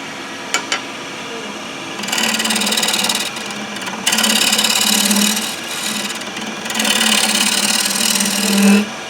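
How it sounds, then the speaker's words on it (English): A slightly out-of-round wooden bowl is scraped on a lathe with a bowl gouge, producing rough, raspy bursts of grinding noise that start and stop in several passes over a steady motor hum. "Are you just scraping there?"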